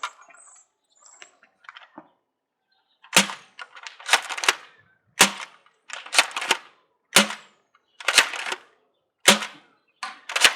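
Dart Zone Pro toy dart blaster fitted with a rifled barrel firing repeatedly, a string of sharp, close pops spaced about a second apart after a few quieter mechanical clicks at the start.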